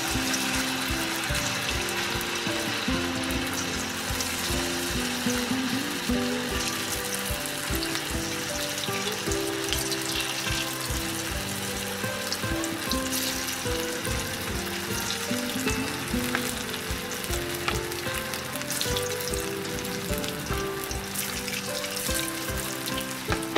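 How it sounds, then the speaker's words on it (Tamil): Flour-coated vegetable Manchurian balls deep-frying in hot oil over medium heat, a loud, continuous bubbling sizzle with rapid crackling and rattling, close and unbroken throughout. "இப்போ நம்ம வந்து எண்ணெயில் போட்டு இதை வந்து ஃப்ரை பண்ணலாம்"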